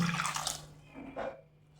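Water poured into a bowl of crushed spices and turmeric for a sardine curry, a brief close splashing trickle that quickly fades.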